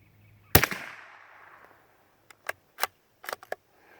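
A CZ 457 .22 LR rifle fired at 15 yards: one sharp crack with a short ringing tail, then a few quicker clicks and snaps from the action, all close and clear with no talking.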